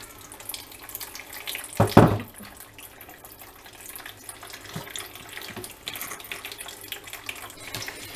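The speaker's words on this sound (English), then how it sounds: "So you strain this whole thing out, and whatever butter you have left," Homemade buttermilk is poured through a strainer to separate out the remaining butter, a brief loud splashing gush followed by a softer, steady trickle of running liquid.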